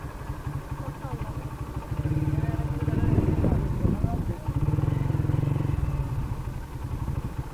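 A motorcycle engine idles steadily at a picnic spot's parking area in Halishahar, Chittagong, with a low, rapid chugging pulse. People talk over it throughout.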